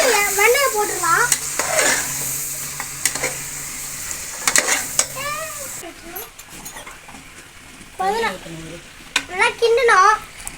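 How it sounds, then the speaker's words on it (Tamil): Country chicken biryani stirred in a pot after water and butter are added, with loud scraping strokes over a steady sizzle, coming in repeated bursts between stretches of a man's speech. "நல்லா கிண்டணும்."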